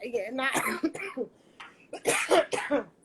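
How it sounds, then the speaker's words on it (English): A few sharp coughs and throat-clearing bursts, close and loud, broken up by brief pauses. "I get to coughing"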